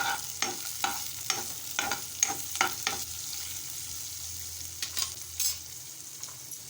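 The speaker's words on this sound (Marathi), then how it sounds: "मिश्रण छान एकजीव करून घेत आहे" A potato bhaji mixture with chopped onion is stirred in a pan, giving a series of soft rhythmic scrapes over a faint sizzle, close and moderately quiet, with no voices.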